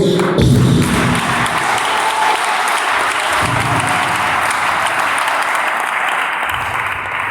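A church congregation claps steadily and loudly, a dense continuous applause with some low thumps and singing underneath.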